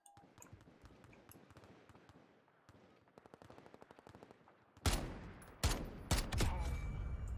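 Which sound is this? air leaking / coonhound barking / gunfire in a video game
gunfire in a video game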